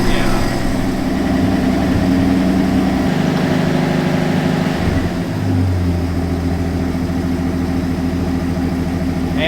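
A classic Ford truck engine idles with a steady low rumble throughout, its pitch shifting slightly partway through, while someone talks quietly over it.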